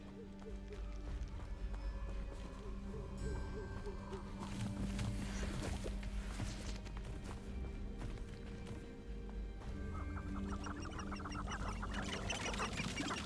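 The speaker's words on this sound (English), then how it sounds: "Where are the chickens going?" Chickens cluck in Hogwarts Legacy gameplay, short bird calls scattered through a dense, continuous game soundscape with music and ambience, fairly faint and partly masked.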